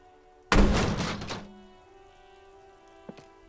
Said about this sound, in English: There is a hollow ring as you kick the box.